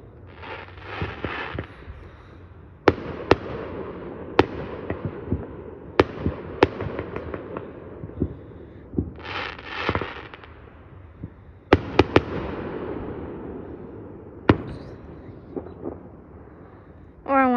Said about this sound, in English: We both shot out fireworks.